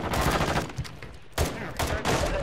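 Gunfire in an online shooter video game crackles in loud, dense bursts, with a short gap partway through before more rapid shots pile back in.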